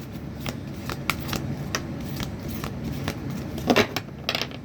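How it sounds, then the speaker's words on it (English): A stiff, hard-to-shuffle deck of cards is shuffled by hand in a series of quick, close riffling bursts, with a louder flurry near the end. "This deck is really hard to shuffle."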